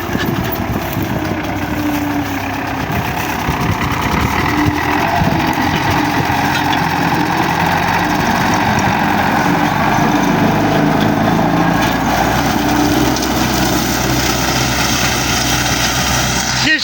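A tractor engine runs steadily and loud throughout while pulling an Optikon 2.5 deep subsoiler in a field, a continuous low rumble with faint voices underneath.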